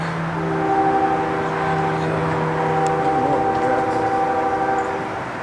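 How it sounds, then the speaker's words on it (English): A CSX freight train rumbles past close by at Dorsey, Maryland, while a loud, sustained multi-tone horn sounds, a steady drone under it. "this train's coming"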